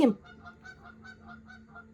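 Geese honk repeatedly in a steady series of calls at a moderate distance, faint and unaccompanied by talk.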